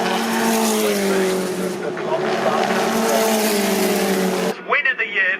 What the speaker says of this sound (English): Win of the year for Alice Powell, who crosses the line now to take the checkered flag by just half second in the championship, ahead of Jamie Chadwick in car 55.